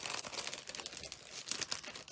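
Thin plastic bag crinkling and rustling close up in a steady, busy stream of crackles, handled during a cross-stitch haul with no talk over it.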